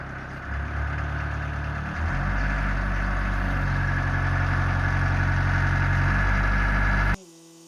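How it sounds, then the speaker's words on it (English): A newly delivered 1.5-tonne machine's engine rumbles steadily at idle, then rises in a revving surge that holds for several seconds before cutting off abruptly, loud and close with no talk. "Just give it a little bit of rev, Monk."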